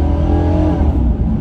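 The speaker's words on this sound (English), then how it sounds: "All right, I'm gonna floor it here, see how it accelerates." Chevy Impala SS engine at full throttle, a loud, close, continuous roar with a low rumbling growl that holds steady through the short burst of acceleration.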